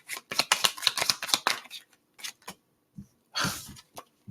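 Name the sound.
shuffling tarot cards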